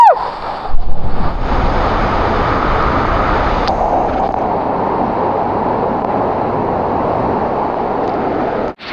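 Water rushes under high pressure at a hidden waterfall near Murbad, a steady broadband roar that continues nearly unbroken throughout, loud and close, with a brief gust-like disturbance near the start.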